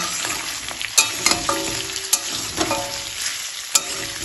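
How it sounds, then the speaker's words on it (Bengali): Boiled chicken pieces fry with onions in hot oil, a steady close sizzle broken by sharp clanks and scrapes of a spatula against the pan. "এখন আমি এর মধ্যে দিয়ে দেব সিদ্ধ করে রাখা চিকেনগুলো চিকেনটাও তেলের সাথে এবার একটু ভেজে নেব"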